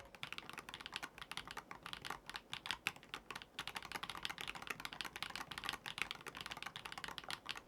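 Continuous fast typing on an AULA WIN60HE magnetic keyboard fitted with thocky, creamy switches, a dense run of close, steady keystrokes with no voices.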